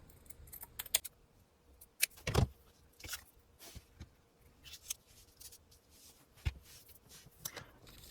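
Small scissors snip through material while safety pins are being altered, giving sharp, scattered clicks and snips at irregular intervals, fairly close and quiet, with a few louder rustling handling noises between the cuts.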